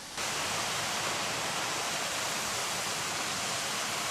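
A canyon waterfall in Diyarbakır, said to have flowed for a thousand years, pours in a dense, continuous roar that fills the whole clip with no voices.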